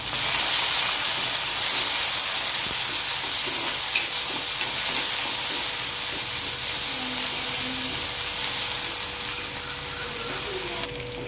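Crushed garlic added to curry leaves frying in hot oil while making prawn gravy, giving a steady, loud, close sizzle that holds evenly throughout with faint stirring clinks and no talk.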